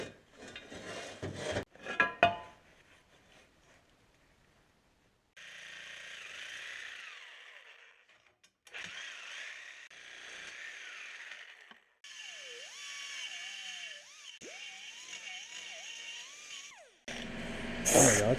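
A grinder works a small metal nub off a fabricated Sport quattro replica intake manifold, with three sustained grinding passes whose whine rises and dips, set apart by short pauses and some clanks at the start. No one speaks.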